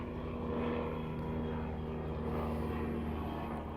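A propeller airplane drones steadily at moderate distance, a constant low engine hum with a broad whooshing wash that holds evenly throughout without pause.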